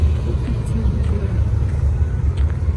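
Early small-mouth Triumph TR3 classic sports car at a car gathering on Place Vauban, its engine giving a loud, close, steady low rumble throughout, with faint voices behind it.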